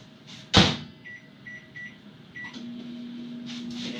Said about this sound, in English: I'll put this back in the microwave for another 3 minutes.